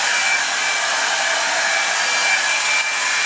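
Revlon Salon One Step hair dryer and volumizer running, a loud steady whooshing whine with a faint high tone, close up and unbroken, no talk.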